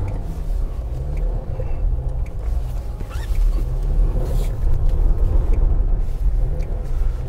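A Jeep Wrangler Rubicon plows off-road through deep virgin snow with stability control switched off, its engine a low continuous rumble that swells and churns as the tires work, heard close and without speech.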